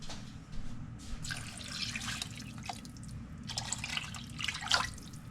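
Water poured from jars into a pot of turkey stock with beef base, a splashing, dripping pour in a few bursts over a low steady background, close by with no talk.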